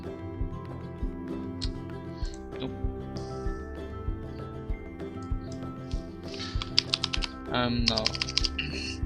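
A new password is typed on a computer keyboard, a close run of quick, uneven key clicks with a denser flurry near the end, heard alone without talk.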